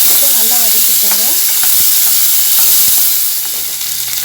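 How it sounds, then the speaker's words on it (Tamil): Small shallots frying and being stirred in a pan while making fish curry, a loud dense sizzle with scraping spoon strokes and a few brief squeaks early on. "சின்ன வெங்காயத்தை கட் பண்ணி வச்சுருக்கேன் சேர்க்கலாம். நல்லா வதக்கிக்கோங்க."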